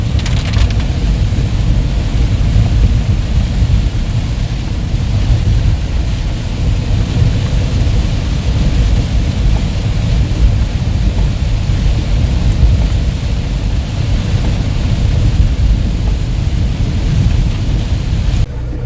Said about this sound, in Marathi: हे बघा भरपूर पाऊस आहे आज मुंबईमध्ये